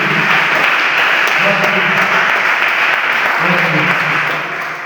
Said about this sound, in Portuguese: Aplauda o Senhor com as suas palmas.